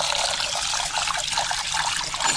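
Rice is being washed in water, giving a steady, close sloshing and trickling with no voices.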